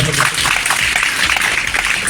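Dense, sustained applause from an audience at a public speech, a bright continuous patter of clapping filling the whole moment.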